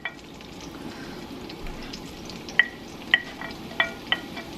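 Onions and garlic sauté gently in a pan over a low steady sizzle, with several sharp utensil taps and clinks against the pan standing out near the end.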